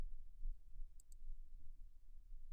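A computer mouse gives two quick, faint clicks in rapid succession, close by in a quiet room with a low background hum.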